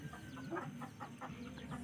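Chickens cluck in a rapid, repeated series of short calls while a puppy harasses them, faint and somewhat distant against a steady background hiss.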